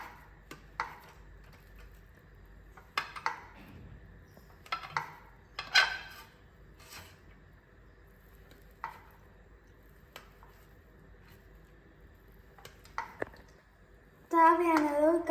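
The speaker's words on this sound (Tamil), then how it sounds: "அப்புறம் உங்களோட நைஃப் எடுத்துட்டு இந்த மாதிரி கட் பண்ணணும்" A knife cutting through soft idli on a board in a home kitchen, giving scattered light taps and scrapes amid a low background hum, followed by a louder clattering burst at the end.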